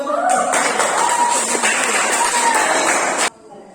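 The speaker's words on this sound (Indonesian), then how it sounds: "Oke, tepuk tangan dulu." Classroom applause during a lesson, a burst of many hands clapping loudly for about three seconds, then stopping abruptly.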